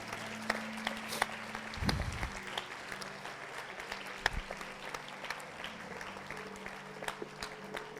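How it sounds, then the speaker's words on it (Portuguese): A church congregation applauds the Lord during a sermon, a soft, steady patter of many hands clapping at a distance, with faint low tones and scattered sharper claps. "Você pode aplaudir ao Senhor?"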